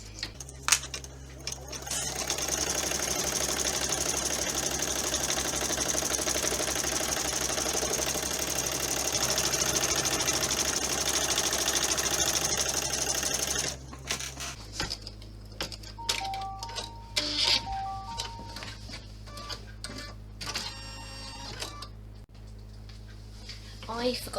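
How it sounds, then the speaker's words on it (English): Brother Innovis V5 embroidery machine stitching a wallet flap, a continuous close mechanical hum and rapid rattle for about fourteen seconds, then quieter with scattered clicks and beeps. "embroidery machine is a Brother Innovis V5, so nothing special, just to show you"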